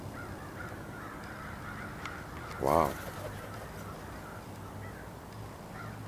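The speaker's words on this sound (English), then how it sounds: "Sure sounds like lots of crows coming." A flock of crows approaches with a short burst of loud, overlapping caws midway, set against a steady outdoor background, while a person talks and exclaims nearby.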